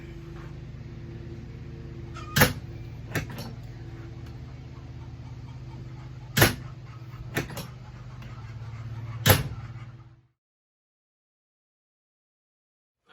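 A trailer's side storage door is worked in a quiet shop: several sharp knocks and clacks at irregular intervals, some doubled, over a low steady hum that cuts out near the end.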